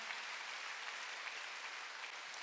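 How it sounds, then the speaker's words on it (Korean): A church congregation claps together at a Wednesday worship service, a steady, even wash of applause from a crowd, heard at moderate distance with no talk over it. "박수로 하나 주세요"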